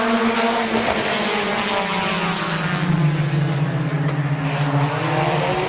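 Race cars roar back to speed at a green flag restart on the Midvale Speedway asphalt oval, several engines droning and rising in pitch together, loud and continuous, with no talking.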